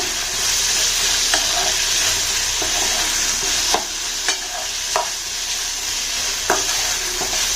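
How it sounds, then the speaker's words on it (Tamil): Chutney ingredients sautéing in a pan give a steady, close sizzle and fry hiss, with occasional soft clicks of a spoon stirring against the pan. "கலர் வந்துட்டு நல்லா மாறி வர்ற அளவுக்கு நீங்கள் நல்லா வதக்கி விட்டுக்கோங்க"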